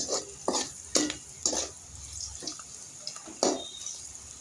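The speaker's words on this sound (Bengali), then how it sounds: "এখন আমি মশলাগুলিকে ভালোভাবে মিশিয়ে নিচ্ছি" Onion stalks and egg frying in a pan as spices are mixed in, heard as close, rhythmic spatula scrapes about every half second over a light sizzle, with no talking.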